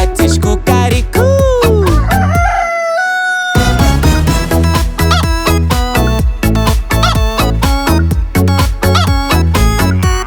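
Chicken clucks and a rooster crow voiced within a lively children's song about farm animals, the bird calls mimicked over loud, bouncy rhythmic music with a brief pause in the backing partway through.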